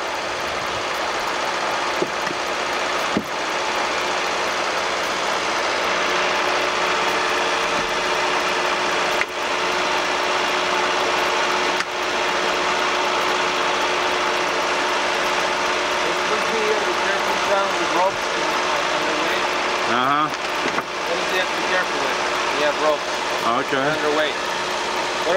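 A boat engine drones steadily as the craft runs underway on Lake Mead, a continuous low hum beneath intermittent talk from people aboard, with occasional knocks and creaks.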